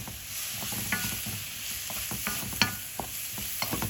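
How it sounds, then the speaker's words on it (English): Noodles and cooked vegetables are stirred around a hot pan in a simple stir fry, with a constant sizzle under repeated scraping and clacking of a utensil against the pan. "And just stir that round. All you're doing really is warming up the noodles."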